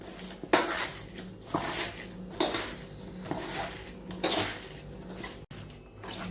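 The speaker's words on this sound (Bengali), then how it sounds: "নিয়ে আমি লবণ দিয়ে এটা ভালো করে মাখবো।" Drumstick flowers with green chili, coriander leaves and salt being mixed by hand in a bowl: a series of close clattering knocks and scrapes against the dish, roughly once a second, with rustling between.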